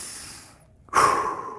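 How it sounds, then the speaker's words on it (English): One deep breath taken while holding a hip stretch: a slow, fading exhale, a short pause, then a sharp, close inhale. "Take a couple breaths here."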